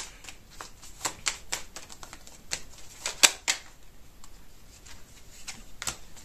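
Tarot cards handled, slid and flipped on a table in a fortune-telling reading, soft irregular papery taps and snaps, close and quiet, with one sharper slap midway.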